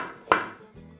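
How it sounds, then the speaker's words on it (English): A knife comes down once sharply through white onion on a board, a single close, crisp chop followed by a fading tail and faint low rumble. "So we're just going to start off by finely chopping up our onions"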